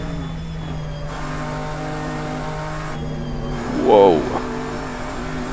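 Nissan GT-R GT3 race car with a sound mod in Assetto Corsa, racing at Spa in winter: steady loud engine drone with shifts and a brief rising rev burst, a driver's short exclamation over it.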